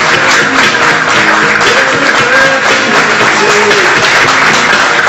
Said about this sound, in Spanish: brindémosles el caluroso aplauso a estos alumnos